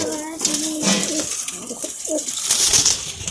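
Pet pigeons coo softly and repeatedly nearby in a Lahore loft setup, with someone talking over the calls.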